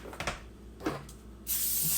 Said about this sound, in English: So I'm going to use spray oil.